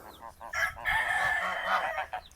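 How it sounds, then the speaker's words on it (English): A rooster crows loudly and close by in a small homestead chicken coop, one drawn-out call lasting about two seconds, with hens clucking faintly around it. "This is the chicken pen, the little coop"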